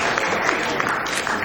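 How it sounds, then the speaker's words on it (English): A crowd at a Save the Children centenary celebration gives a round of applause, a dense, continuous wash of clapping that holds steady through a brief moment. "Can we please give them another round of applause as they come?"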